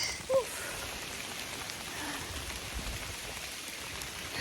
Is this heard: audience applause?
no